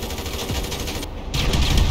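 Gunfire in the video game GTA 5, a loud dense burst of rapid automatic shots that keeps going steadily for two seconds, briefly cutting out near the middle before resuming even louder.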